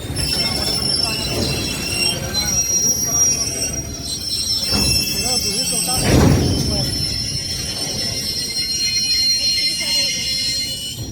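A train rolls along the rails with a steady loud rumble and a high, sustained metallic wheel squeal; no one speaks.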